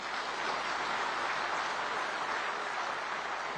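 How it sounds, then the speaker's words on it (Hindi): An audience applauds at Amit Shah's political speech on PACS. The clapping is steady, fairly faint and diffuse, as if from a large crowd heard at some distance, and no other sound stands out. "अब मेरी बात पर जोर से ताली बजाना"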